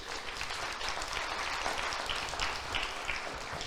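A church congregation applauds during a sermon. Dense, steady clapping from many hands fills the space at a moderate distance, with no voice over it.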